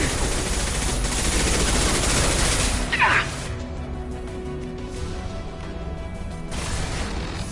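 Rapid gunfire in the shooter Mass Effect 2, dense bursts of shots filling the first three seconds, then a sharp crack, with quieter battle noise continuing after.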